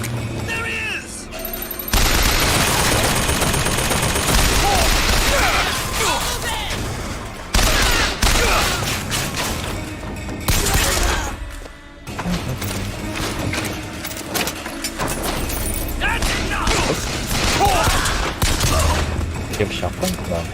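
Machine gun fire in Bioshock Infinite rattles in long, loud sustained bursts with brief pauses, mixed with in-game mechanical clatter and booms, while players talk over the shooting.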